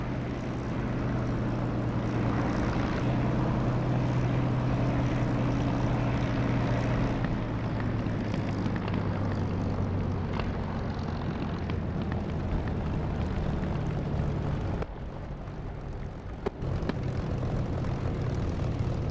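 A propeller aircraft engine droning loudly and continuously in flight in the DCS flight simulator, a steady close roar with a low tonal hum that dips briefly near the end.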